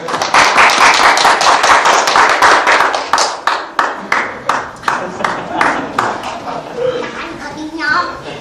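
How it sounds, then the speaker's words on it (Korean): A church congregation at a Christmas Day service claps to welcome Sunday school children coming forward to perform. Fast, dense clapping settles into slower, rhythmic claps, with voices mixed in. "우리 성도님들께서는 아이들이 앞으로 나올 때 박수로 환영해 주시고"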